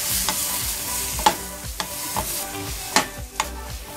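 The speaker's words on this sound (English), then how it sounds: "As soon as you add the juice, just stir it well" Asparagus with half a lemon's juice sizzles steadily in a pan while a utensil stirs and scrapes it in several distinct knocks, close and fairly loud, with no speech.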